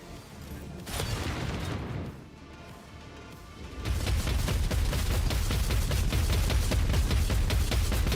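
Dense, rapid gunfire and explosions from a Dark Heresy game battle, a sustained barrage that grows louder and busier halfway through, with no voices.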